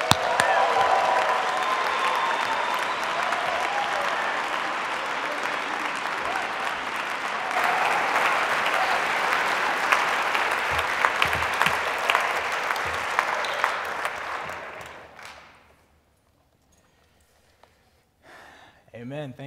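A church congregation applauds to welcome a preacher, with loud, dense clapping that fades out around fifteen seconds, followed by near silence and a faint voice.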